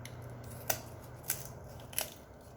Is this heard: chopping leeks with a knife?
no